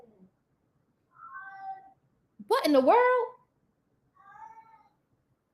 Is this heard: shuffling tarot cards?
no